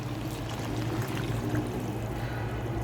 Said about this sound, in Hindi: अब हम यहाँ पे ऐड करेंगे पानी।